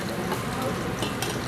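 Garlic frying in a pan for chicken tinola with papaya, a dense, constant sizzle with faint clicks of stirring, close and steady throughout.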